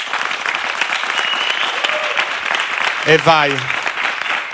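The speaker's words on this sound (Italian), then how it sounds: "Applauso." Loud studio audience applause rolls steadily at the opening of a comedy show episode, with a host's voice speaking briefly over the clapping.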